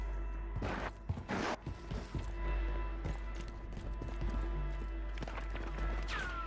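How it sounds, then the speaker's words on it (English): Footsteps in the shooter game Modern Warfare 3 Warzone: irregular thudding, clattering steps under a steady bed of game noise, moderately loud, no speech. "I could legitimately hear footsteps."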